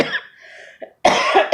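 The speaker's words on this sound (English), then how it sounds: "really wish I could get through this without coughing" A person coughs in a short, loud burst near the end, after quieter breathing and faint sounds; the cough is close and harsh, with no talking.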